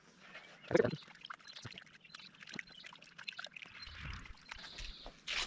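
Compost being dipped and massaged in water for a garden-scale extract, then left to drain: a sharp splash and pour near the start, followed by softer trickling and dribbling, close by and without talk.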